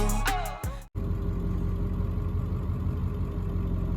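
A repaired truck engine turns over after a brief musical snippet, then settles into a steady, loud, rumbling idle close by with no talking.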